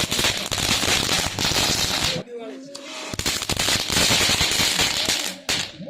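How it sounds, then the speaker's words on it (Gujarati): A string of Diwali firecrackers bursts in rapid, dense crackling volleys, very loud and close, pausing briefly before another run starts. "પછી મેં મારા ભાઈએ સગાવ્યા તતળિયા"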